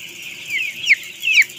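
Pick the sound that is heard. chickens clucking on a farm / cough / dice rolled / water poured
chickens clucking on a farm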